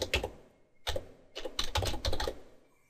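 Fingers tap out a short burst of typing on a computer keyboard, close and clear, in quick clattering runs broken by brief pauses.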